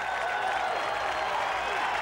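Home crowd at a 1990 Division I-AA national championship football game between Nevada and Georgia Southern roars and applauds steadily after a touchdown, a dense continuous wash of cheering with no gaps.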